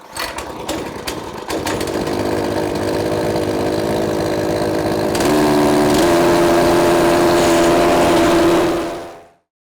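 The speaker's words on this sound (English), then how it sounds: "once the Pit Vac starts running" A Pit Vac engine starts after a few sharp pull-cord tugs, catches, and settles into a loud, steady run that rises a step in pitch midway before cutting off abruptly.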